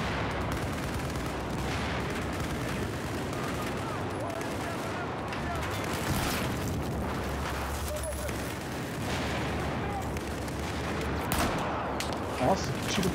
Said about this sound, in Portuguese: que tiro que foi esse?